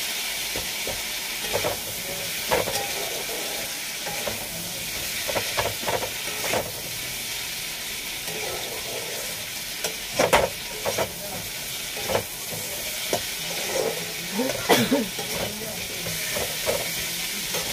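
Masala with ginger frying in a pan, a continuous loud sizzle with intermittent stirring scrapes and utensil knocks at irregular intervals.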